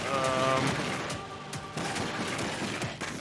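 Gunfire from the super shotgun in the video game Doom Eternal's The Ancient Gods expansion, heard as several loud, sharp blasts mixed with game effects. A voice speaks over part of it.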